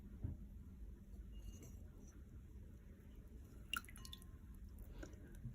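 A Besta Military compass wristwatch is lowered into a container of water, giving faint, quiet drips and small splashes against a soft background hiss, with no talk.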